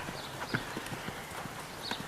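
Horse hooves clip-clopping on an arena surface during a riding lesson, a soft steady rhythmic beat of hoof falls at a moderate distance, fairly faint with no talk over it.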